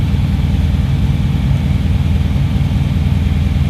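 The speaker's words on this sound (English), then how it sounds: "As you can see, it's idling at about 1100." A car with an LS V8 engine idles at about 1100 rpm after a cold start. The close exhaust gives a loud, steady, low rumble with an even pulsing beat and no voices.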